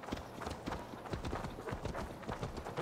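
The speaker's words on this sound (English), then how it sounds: "I might have to call my horse." Horse hooves clip-clopping in the Assassin's Creed Valhalla video game, a steady run of quick hoof beats, faint and fairly distant, with no clear talk over them.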